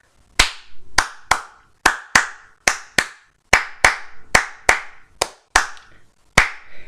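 A single pair of hands claps out the rhythm of a piece, about a dozen crisp, close claps in an uneven pattern with short gaps and no other sound.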